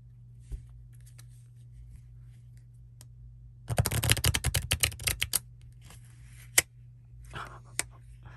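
Playing cards riffled and shuffled up close, a dense burst of crisp flutter in the middle flanked by quieter handling, taps and slides in a quiet room.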